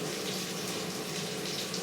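Steady stream of liquid poured from a container over kitchen scraps in a jar, a continuous close splashing gush that runs unbroken for the whole stretch with no talking.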